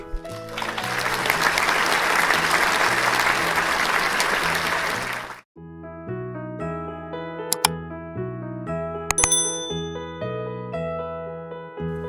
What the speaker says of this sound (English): Let's clap, clap, clap for Daddy Pig.